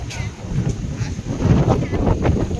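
Strong wind with rain buffets the microphone in heavy, rumbling gusts that fill the whole clip, in Phnom Penh, Cambodia.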